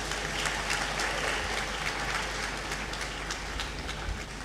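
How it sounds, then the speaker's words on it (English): Applause from the audience at a university congregation ceremony in a great hall, a dense, even roar of many clapping hands, loud and sustained throughout with no speech over it. "Another round of applause for him, please."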